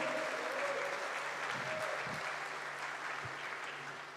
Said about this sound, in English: Can I have a thundering round of applause for all my past chairs sitting in this